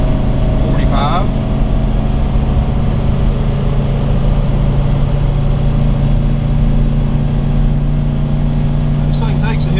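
A 2014 Coachmen Concord 300TS Class C motorhome with three slides climbs a hill, its engine giving a steady, loud low drone throughout with a few faint high chirps over the top.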